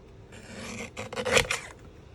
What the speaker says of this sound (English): I'm gonna grab my mini guillotine cutter, and we're gonna just trim that down a little.